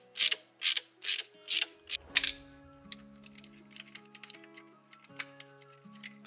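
Ratchet fitted with a T40 Torx bit turning a corroded bolt on a Mk5/Mk6 Golf 2.5 engine: five or six sharp, close clicking bursts in quick rhythm, followed by faint metallic ticks and a low hum.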